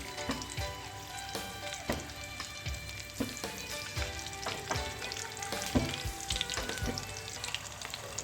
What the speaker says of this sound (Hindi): हल्का सा मैं कड़कड़ाऊँगी ताकि ये थोड़ा सा इसमें जीरा जो है वो भून जाए।